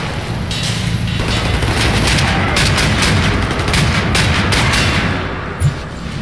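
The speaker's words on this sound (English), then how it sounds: "Who the fuck is shooting?" Dense, sustained gunfire in Wolfenstein The New Order, a loud continuous wall of shots and booms with sharp cracks throughout, no clear gaps.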